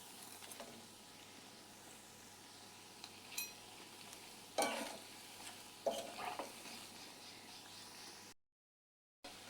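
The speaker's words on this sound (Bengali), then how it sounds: "তেলটা গরম হয়ে গেল, এখন দিয়ে দিলাম পাকুড়াটা।" Potato pakoras fry in hot oil with a faint, steady sizzle, broken by a few louder crackles and scrapes as they are stirred, ending in a brief gap of silence.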